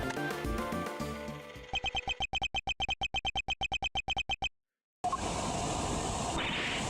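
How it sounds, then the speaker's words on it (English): A balloon heard on a tape recording in Ace Attorney Investigations: after a burst of music comes a quick, regular string of pulsing thuds, then silence, then a broad rushing hiss. "That's the sound of the balloon."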